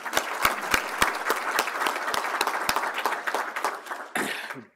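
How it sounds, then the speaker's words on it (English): Audience applause at a Bucknell Athletics Hall of Fame induction ceremony, with several sharp near claps standing out from the sustained clapping, which swells briefly before fading out. "I think Todd and everyone deserves a big round of applause for helping put this weekend together"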